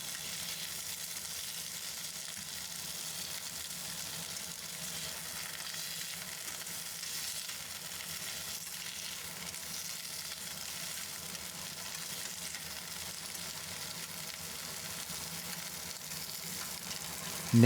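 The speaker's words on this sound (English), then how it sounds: "Gently stir for a couple minutes or until the color turns bright green and is sizzling" Steady, even sizzling of green beans stir-frying in a pan, a constant crackling hiss that continues without pause and without talk.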